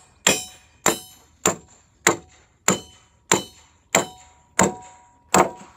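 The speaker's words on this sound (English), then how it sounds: "once you drive it into the wood, the square peg doesn't fit in the round hole, so you beat that in" A square-end bolt is hammered into heavy post-and-beam timber with a knife plate, giving nine sharp metallic clangs at an even, unhurried rhythm, each ringing briefly before the next blow.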